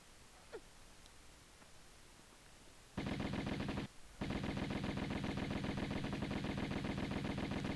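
Tomb Raider gunfire starts abruptly after a quiet lull, a loud, fast stream of shots with a brief break before the firing resumes and keeps going.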